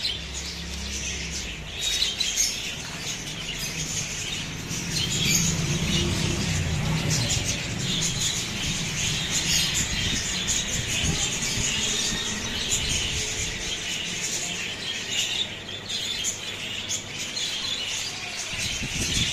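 Budgerigars and pigeons in a pet shop fill the air with constant overlapping chirps, tweets and squawks, with a low rumble of shop background underneath and no talking.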